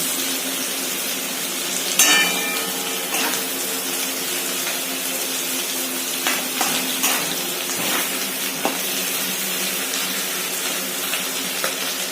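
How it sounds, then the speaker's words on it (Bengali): Continuous crackling sizzle of dried fish and dried mango frying together in a pan, with a metallic clink early on and scattered light scraping. "শুকনো মাছ আর শুকনো আমটি সব আমি একসঙ্গে ভেজে নিচ্ছি"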